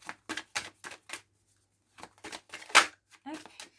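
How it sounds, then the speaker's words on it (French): Oracle cards from a mirror-themed deck are drawn and shuffled, making a string of short, crisp card-riffling bursts with brief pauses between them while a person speaks. "Je viens chercher des cartes pour le domaine sentimental avec l'oracle des miroirs ici."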